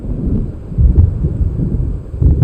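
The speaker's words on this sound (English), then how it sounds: "It seems there's a storm coming." Low rumbling thunder of an approaching storm in the video game Alan Wake Remastered, rolling steadily with a few heavier swells, heard alone with no talk.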